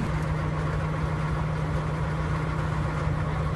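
Heavy snow-clearing equipment such as bulldozers idles on a snowbound Yellowstone road, giving a steady, low, continuous engine rumble at moderate distance.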